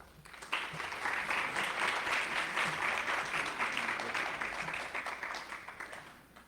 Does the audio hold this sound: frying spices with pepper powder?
no